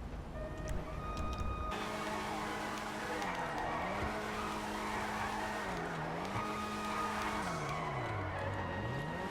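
A Vulcan Warrener HKR drifts in GTA Online, its engine note rising and falling through repeated revs while the tires squeal in long skids, with a voice talking now and then.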